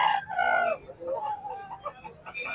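A rooster crows loudly and close by at a gamecock expo in a public market, one drawn-out call followed by clucking and fowl noises, with another crow starting at the end.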